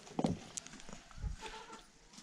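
Chickens feeding in a farmyard in Khanigaun, Palpa, with a few soft clucks and brief scratchy pecking sounds spread across the quiet scene, fairly close, and no talking.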